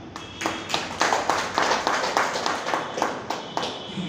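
Audience claps at an event honouring journalists, a loose and uneven run of individual claps that is moderately close and steady in pace.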